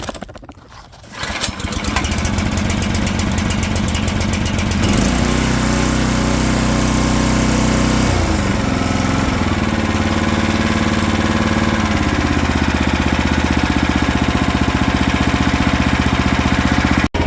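The small engine of an old Harbor Freight towable backhoe cranks briefly, then catches and runs steadily, a loud droning idle with shifting pitch and rattling vibration, close by.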